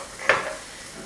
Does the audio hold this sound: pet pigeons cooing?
no